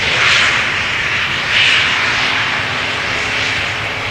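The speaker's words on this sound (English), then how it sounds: "Another airplane with almost the same engines, just landing. E2 Embraer 195 coming back home from Edinburgh." An Embraer E195-E2 jet airliner lands at Amsterdam Schiphol Airport in sunny weather, its loud continuous engine roar sweeping past with hissing surges that rise and fall, close and unbroken by voices.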